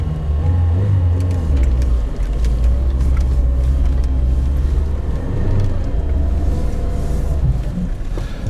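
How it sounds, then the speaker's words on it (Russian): A Lada Niva in second low gear with its differential locked, engine revving hard and steady under load at close range, a continuous loud drone with pitch swells. "Также разгазовываем."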